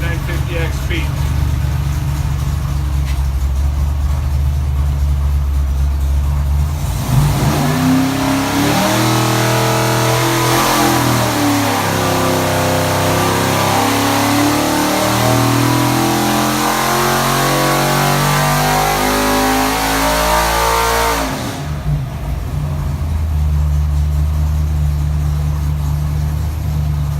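A 427 Ford Windsor V8 with 10.5:1 compression on pump gas, with a Dart block, AFR 220 heads, an Edelbrock Super Victor intake and a Holley 950 XP, runs on an engine dyno. It idles, then revs hard and loud for about fifteen seconds before dropping back to idle.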